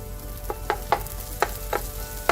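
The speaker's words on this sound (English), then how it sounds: "Increasing the heat, adding a little bit of oil to it, the tomatoes." Tomatoes frying in oil in a pan for an okra and scrambled egg stir fry, a soft steady sizzle punctuated by about six sharp spatula scrapes and clacks.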